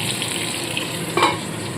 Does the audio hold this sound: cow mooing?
no